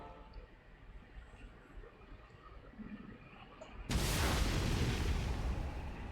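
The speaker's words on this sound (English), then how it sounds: "An explosion?" An explosion in Xenoblade Chronicles 2: a low ambient rumble gives way to a sudden, loud, broad-band boom that sustains as a heavy roar to the end.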